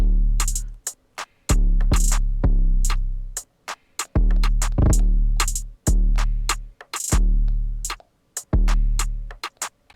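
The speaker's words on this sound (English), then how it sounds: "here with the rim shots, it sounds like this" Lofi drum loop with rim shots added: sharp, dry rim clicks ride over heavy, long-decaying kicks and crisp hats in a laid-back repeating groove, instrumental only.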